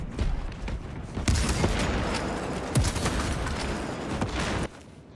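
Heavy gunfire from a bolt sniper rifle in Warhammer 40k Space Marine 2, several sharp loud cracks over a dense, rumbling battle din that cuts off near the end.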